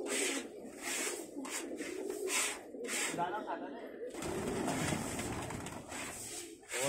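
Pigeons coo softly in bursts amid outdoor bustle, with people talking nearby throughout.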